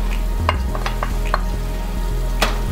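Browned minced beef keema frying with spices gives off a steady loud sizzle, broken by several quick scraping stirs of a spoon against the pan, with no talk.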